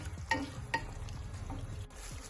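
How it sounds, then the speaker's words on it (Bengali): Boiled eggs are stirred with spices in a pan of egg curry: a spoon scrapes and taps against the pan a few times over a soft, steady frying sizzle, close by and without talk. "ভালো করে নাড়িয়ে নিয়ে যাতে ডিমের মধ্যে মশলাগুলো ভালো করে ঢুকে যায় একটু নাড়িয়ে নেব"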